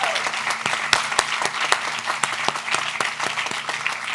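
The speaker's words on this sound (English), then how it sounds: "So can we give a round of applause to all of the parents," Applause from the audience at The Brooklyn School for Social Justice 2022 graduation ceremony, a sustained wash of many hands clapping with a few sharper claps standing out, moderately loud throughout.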